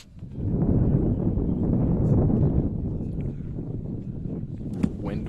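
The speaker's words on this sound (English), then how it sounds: "Wind once again picking up." Low, blustery wind gusting to 15–20 mph at a baseball game, rumbling against the microphone, swelling and easing, with faint background noise.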